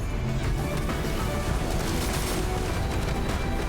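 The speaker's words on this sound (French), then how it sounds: "encore une petite salve" Dense, continuous barrage of booming cannon fire and crashing impacts, loud and unbroken throughout with no pauses.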